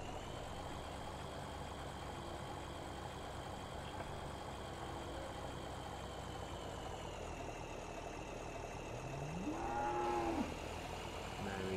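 Cattle in Farming Simulator mooing around a farm water trough, a steady engine idle droning underneath throughout, with a louder rising moo near the end.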